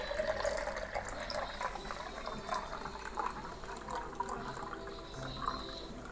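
Water pours into a bottle being filled to a set level for hatching artemia eggs, a soft, close gurgling trickle that continues steadily with a few brief splashes.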